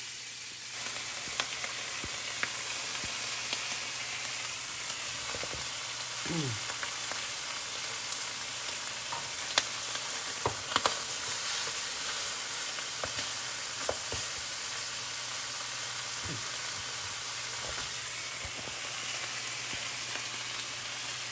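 Pork ribs sear and sizzle in a hot pan, a steady broadband frying hiss running throughout with occasional louder pops and spits, close and alone with no talk.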